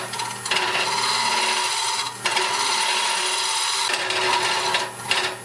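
A lathe turning a mesquite hollow vessel at roughly 1,000 RPM, the tool cutting with a loud, steady scraping hiss that runs in long continuous passes broken by two brief pauses, close up and alone.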